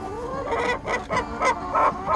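Chickens cluck in short, close bursts, several quick calls in a row at a farm-style animal exhibit, with no talking over them.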